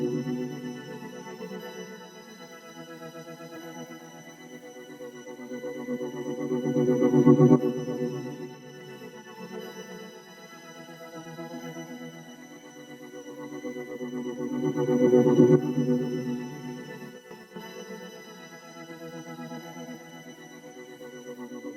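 An Omnisphere synth pad with tape-emulation processing plays soloed, a sustained, warm harmonic chord bed that swells louder twice, with slow modulated shimmer and no other instruments.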